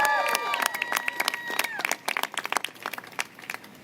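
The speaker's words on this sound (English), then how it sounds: "Applaud for Tish James." Political rally crowd clapping and cheering after a call to applaud, loud and dense at first, then thinning into scattered claps and voices with an amplified speaker's voice heard early on.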